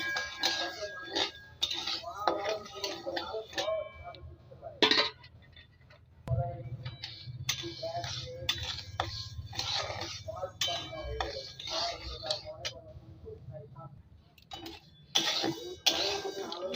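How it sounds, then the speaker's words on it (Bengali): Moong dal is fried in a kadai, with a spatula clinking and scraping against the metal in irregular strokes and occasional sharper knocks, faint and close, under a low sizzle. "আমি ডালটা ভেজে নেব।"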